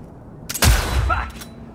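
A single loud gunshot headshot in Cyberpunk 2077, a sharp blast after a brief quiet lead-in, followed by a short decaying tail with faint game sounds.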